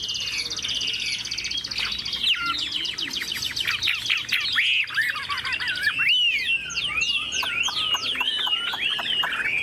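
A Chinese hwamei (họa mi) songbird sings in a cage, a loud, continuous run of rapid whistled phrases and trills that rise and fall in pitch, close up and alone for about ten seconds.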